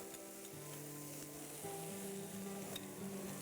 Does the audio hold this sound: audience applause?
no